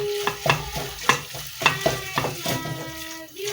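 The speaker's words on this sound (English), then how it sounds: "You stir it completely." A spoon stirs samosa filling in a frying pan, scraping in a quick series of distinct strokes over a soft sizzle, close and clear with no talking.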